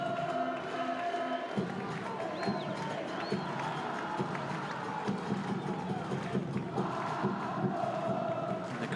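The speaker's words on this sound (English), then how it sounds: "The crowd getting into it a bit more here in Cartago." A football crowd at a night match in Cartago, Cartaginés against Jocoro in the 2023 Concacaf Central American Cup, keeps up a dense, distant roar and hubbub beneath a commentator's voice.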